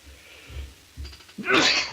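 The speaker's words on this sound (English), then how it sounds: "Excuse me, the old sneeze." One sharp, loud sneeze bursts out after a couple of soft breaths, close to the listener.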